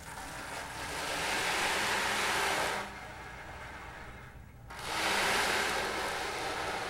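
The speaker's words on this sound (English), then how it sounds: "And it's an ocean drum." Ocean drum with ball bearings rolling inside, tilted to give a steady surf-like wash that swells, eases to a quieter rush midway, then surges again; close and continuous, with no talk.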